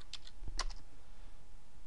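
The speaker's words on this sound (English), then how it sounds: "I'm going to click up here, too, and type" Someone types on a computer keyboard, entering text into an Excel spreadsheet. A few quick, faint keystroke clicks sit over a quiet room background.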